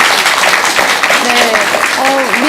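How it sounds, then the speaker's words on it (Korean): Audience at a Korean Buddhist gathering applauds a center director, a loud steady wash of clapping under someone speaking over it. "김원수 원장님께 큰 박수 한번 주시기 바랍니다."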